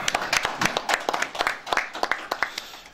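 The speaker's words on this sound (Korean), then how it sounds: "박수로 환영해 주시기 바랍니다" A small seated audience at a panel discussion claps to welcome the next speaker, a short run of scattered, fairly quiet hand claps at a modest distance.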